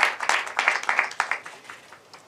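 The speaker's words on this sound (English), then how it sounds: "join me to applaud our excellent speakers who have very interesting insight" An audience at a robotics talk applauds its conference speakers, a modest scatter of hand claps from a small crowd that starts lively and gradually thins out over a couple of seconds.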